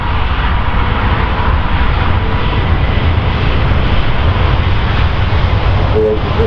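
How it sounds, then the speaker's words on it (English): An Airbus A350 XWB jet airliner begins its takeoff roll at the Farnborough Airshow, a loud, steady, broad engine roar filling the air without a break. "350 now starting his takeoff run"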